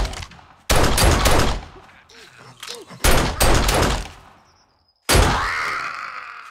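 Gunfire in the survival video game 7 Days To Die, loud bursts of rapid shots in separate volleys with short quiet gaps between them.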